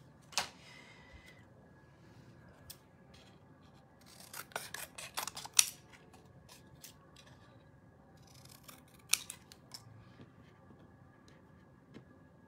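Scissors snip through stamped cardstock around printed words, a few sharp quiet cuts and rasps spread out over a faint, steady background.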